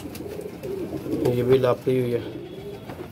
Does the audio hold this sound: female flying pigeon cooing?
yes